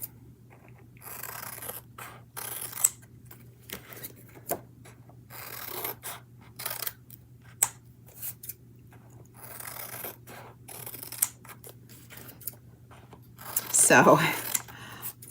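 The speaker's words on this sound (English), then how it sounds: "And then I'm just going to cut in between." Scissors snip between items of a twelve-day advent calendar bundle, in scattered close, crisp cuts with paper rustling and scraping. A busier burst comes near the end, and a voice speaks briefly.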